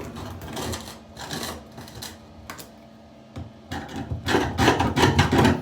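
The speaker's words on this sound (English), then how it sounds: "just let the chisel work on its own" A steel chisel scrapes old silicone sealant off a ceramic shower base, giving bursts of rough, rasping scraping that stop briefly and then return louder and denser, close up, with no talking.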